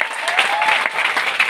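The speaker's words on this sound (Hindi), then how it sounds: "धमाकेदार तालियों के साथ वेलकम करते हैं हमारे महागुरु मिस्टर संजीव सर का एक जोरदार तालियों चाहिए" Audience applause at a direct-selling event aboard a cruise ship, a loud continuous burst of clapping from many hands lasting briefly without pause.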